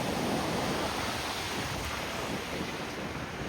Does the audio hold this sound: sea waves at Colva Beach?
yes